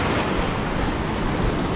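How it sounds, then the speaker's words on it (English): Angry ocean surf crashes and rushes continuously on a Virginia Beach shoreline, a loud dense roar with wind buffeting the microphone and no voices. "The surf is just crazy angry today."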